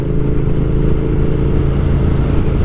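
Close, sustained engine rumble from a 2020 Triumph Speed Twin motorcycle cruising along at a steady pace, loud and unbroken throughout.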